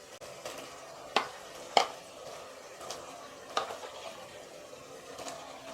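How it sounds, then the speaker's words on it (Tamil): Chicken being stirred into onion, tomato and yogurt in a pressure cooker for biryani, giving soft scraping and a few sharper clinks of the spoon against the pot, close and fairly quiet. "சிக்கன் போட்டு நல்லா கிளறி விட்டுருங்கம்மா."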